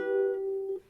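Two ukulele strings plucked together produce a single soft, close tone that rings briefly for under a second before fading, with no talk.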